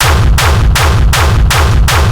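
A heavily distorted techno kick drum pounding in a fast, steady rhythm, loud and gritty with booming low end and harsh noisy tails.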